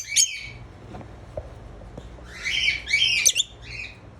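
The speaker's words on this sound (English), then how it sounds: "so this is all lovebirds." Lovebirds squawk in a UAE aviary, with harsh bright calls bursting at the start and a dense cluster of overlapping squawks later, set against quieter background chatter.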